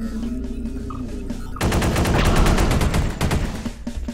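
A sentry gun in the sci-fi shooter Space Beast Terror Fright fires a loud, fast stream of shots that starts abruptly after a low ambient drone, rattles for about two seconds, then tapers into scattered shots.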